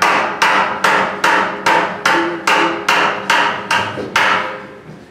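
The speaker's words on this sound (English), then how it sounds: "you saw my hands tap the same way each time." Hands tap about ten times in an even, steady rhythm, each tap a sharp, loud, close knock that rings briefly before the next.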